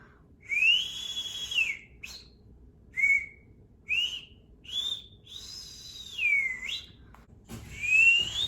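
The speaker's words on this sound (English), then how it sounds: "I guess I can whistle pretty good" A person whistles outdoors in rural Alabama, producing a series of short rising and falling whistled notes with gaps between them, clear and fairly close, over faint background hiss.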